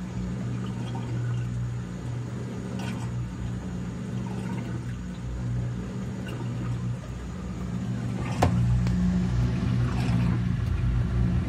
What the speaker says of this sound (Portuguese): Porque a água tá descendo devagar pela mangueira e indo direto pra bomba.